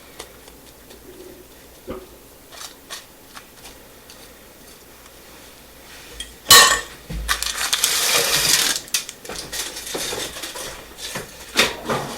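Jam bar batter stirred in a bowl gives scattered scrapes and taps, then a sharp clatter followed by several seconds of loud, close scraping and knocking, with no talk.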